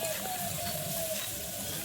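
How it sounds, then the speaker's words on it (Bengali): Soybean chunks frying with salt in a pan over a village wood fire, giving a steady close hiss and crackle of hot oil throughout, with no talking. "আমি লবণ দিয়ে কিন্তু ভাজছি"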